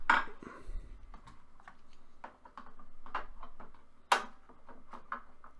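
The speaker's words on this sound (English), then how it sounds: "That's the sound of poker chips on top of it to kind of give me some slack on it" Light clicking and rattling of poker chips resting on a computer mouse, irregular taps with a couple of sharper clacks, close by and without speech.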